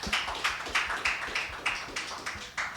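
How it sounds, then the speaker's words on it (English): An audience applauds, a light, regular patter of claps repeating about three times a second, moderately close and fairly quiet, with no talking over it. "Please give yourselves a round of applause."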